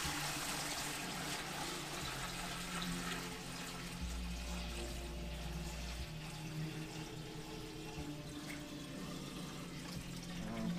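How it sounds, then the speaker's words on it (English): Water splashes and trickles steadily as it is poured from a bucket into a speaker enclosure, a continuous rushing flow close by with no talking. "So I grab the bucket and hopefully I'm not going to pour it"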